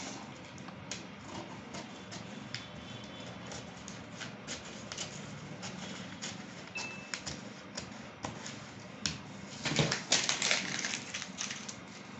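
Faint, irregular snipping and crisp clicks of scissors cutting through fabric, with a denser flurry of cuts near the end.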